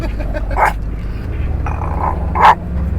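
A couple of sharp dog barks ring out a second or two apart over a rumbling outdoor background along the Carretera Austral, moderately close.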